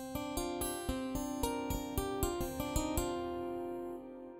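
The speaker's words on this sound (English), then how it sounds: "if we were to choose an instrument like the acoustic finger guitar" A synthesized fingerpicked acoustic guitar plays a quick run of plucked notes in a steady rhythm, clear and close, ending on a ringing note that fades out.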